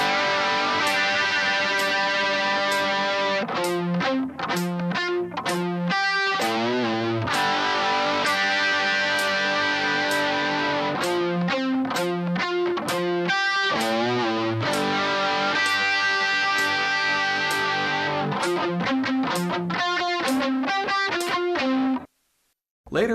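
A distorted electric guitar plays a phrase at a slow tempo, with sustained, effects-laden notes and chords ringing continuously and loudly before a brief cut near the end.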